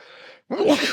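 A single sneeze from a person, a short soft inhale followed by a sharp burst of breath, close and brief.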